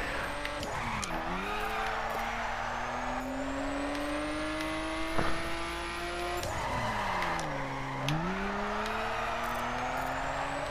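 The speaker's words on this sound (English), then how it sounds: "My Mini Cooper does not drift like this." A Mini Cooper drifts in the racing video game The Crew. The engine drones and its pitch climbs and dips with shifts and throttle changes, while long tire squeals run underneath, loud and close throughout.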